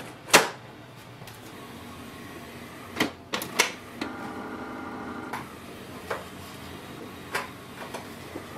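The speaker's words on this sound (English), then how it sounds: "Wait for the printer to activate the ink cartridges." Mechanical clicks and clunks from a Canon Pixma TS3720 inkjet printer activating its ink cartridges, with a soft whirring hum between sharper knocks, spaced irregularly and fairly close.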